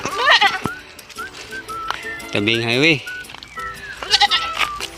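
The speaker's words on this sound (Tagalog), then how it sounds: "Ito yung mga kambing ko guys." Goats, Anglo-Nubian or Boer, bleat loudly and close by, with one long wavering cry in the middle, while a person talks over and between the calls.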